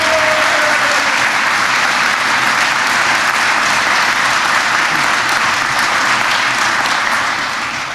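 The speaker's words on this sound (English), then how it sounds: "Let's give him another round of applause." Sustained, dense applause from a large crowd at a political rally for a mayor in Western New York, loud and steady throughout, easing slightly at the very end.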